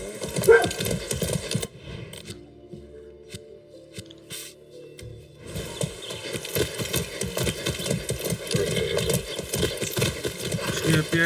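Horse hooves clip-clop in a steady gallop in Far Cry 6, with a game-music bed throughout, a pause near the two-second mark, then continuing hoofbeats mixed with background sound.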